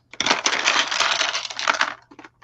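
Dice rattle and tumble across a table during a game at a crafting session, a loud clattering burst lasting about two seconds, then a few small settling clicks.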